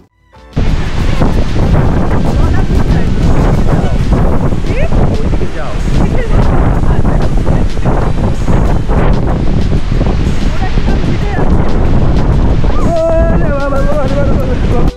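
Strong wind roars against the microphone with constant heavy buffeting at the sea in the Maldives during rain, and surf rumbles underneath throughout.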